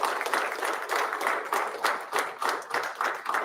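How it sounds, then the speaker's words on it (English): A graduation audience at a fire department recruit ceremony gives the recruits' families a dense, sustained round of applause, a steady wash of many hands clapping. "Give them a round of applause."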